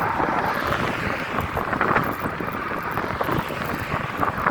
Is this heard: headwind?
yes